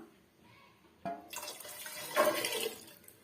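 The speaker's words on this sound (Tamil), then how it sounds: "இப்போ நம்ம வடிகட்டின தண்ணியை வந்து சேர்த்துக்கலாம்" Strained water poured into a pot of brinjal and mango sambar, a faint quiet lead-in and then a sudden splash followed by a continuous burbling pour close by, with no talking.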